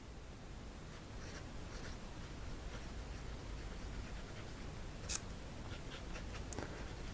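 A Platinum 3776 Century fountain pen with a fine 14 karat gold nib writes on paper, giving a faint, steady scratching with a couple of small ticks, close and quiet, no talk.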